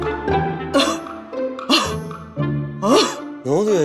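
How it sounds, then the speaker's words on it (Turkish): A woman coughs repeatedly in a Turkish TV drama scene, a series of loud, close coughs and throat-clearing bursts spaced across a few seconds. "Öksür."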